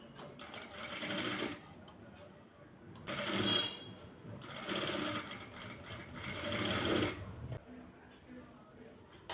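A sewing machine stitches silk for dhoti pants in several bursts of rapid, rhythmic whirring with short pauses between, close and moderately loud, while a voice is also present.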